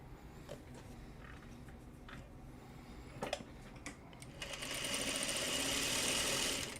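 A sewing machine stitches fabric pieces together, running in a steady, fairly loud whir during the latter half after scattered quieter handling clicks and taps.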